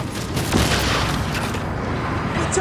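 Heavy turret gunfire in the video game Crysis, a dense continuous rumble of rapid shots and booms filling the short stretch, loud and close with no pause.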